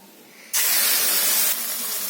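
A paste of tomato, chilli and onion blended with coriander and cumin hits a hot kadai for a tilapia fish curry, giving a sudden loud, close sizzle that holds steady and then eases slightly.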